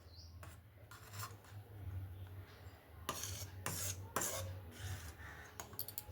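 Food colour being stirred into a small bowl, with faint scraping and clinking of a spoon against the bowl in short uneven strokes over a low background hum.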